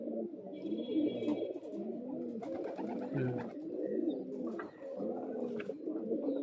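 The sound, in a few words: Madrasi pigeons cooing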